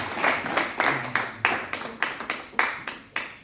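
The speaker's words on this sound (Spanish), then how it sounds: "Démosle lo mejor de un aplauso." Church congregation clapping at a Sunday service, a run of separate, fairly loud hand claps in an uneven rhythm, with a few people's claps overlapping and a faint murmur of voices beneath.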